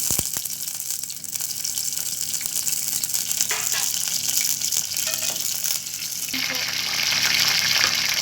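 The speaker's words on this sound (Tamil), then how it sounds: "எண்ணெய் காஞ்ச உடனே கருவேப்பிலையும் பச்சை மிளகாவும் போடுறேன்." Curry leaves and green chillies hit hot oil in a pan, giving a bright, continuous crackling sizzle that holds steady and swells louder near the end.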